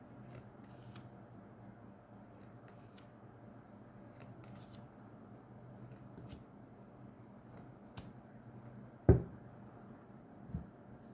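A tarot deck is shuffled by hand, heard as a soft, continuous riffling hiss with light card taps, quiet and close, ending in a sharper slap or two as the cards settle.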